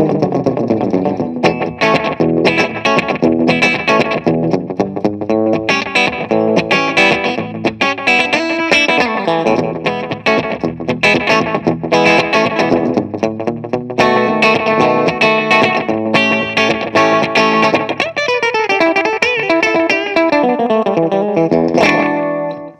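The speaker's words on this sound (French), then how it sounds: "le slapback, c'est vraiment un rebond. C'est le son qui vous renvoie votre propre son à la gueule." Electric guitar played through a slapback delay, each note answered by a quick short echo, with distortion and chorus colouring a busy, loud riff that runs steadily throughout.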